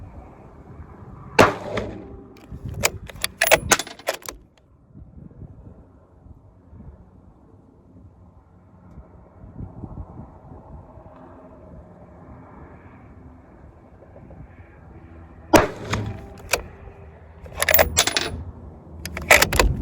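Subsonic Hornady Black 140 rifle rounds fired from a 16-inch barrel: two clusters of sharp, close shots with metallic clinks, separated by a long quiet stretch with faint rustling.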